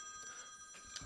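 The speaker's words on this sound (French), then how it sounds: "Ah, c'est un téléphone, alors..." A mobile phone rings during a French radio studio broadcast, a steady electronic tone sounding faintly behind quiet room noise over a short stretch.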